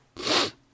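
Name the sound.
sneeze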